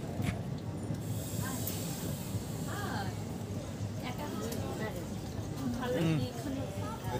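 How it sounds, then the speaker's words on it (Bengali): The Paharia Express pulls out of Bagnan station toward Howrah, a steady broadband rumble and hiss that fills the whole stretch, with indistinct voices murmuring underneath. "ঠিক 2 মিনিট পরেই বাগনান থেকে আমাদের ট্রেন হাওড়ার উদ্দেশ্যে ছেড়ে দিয়েছে।"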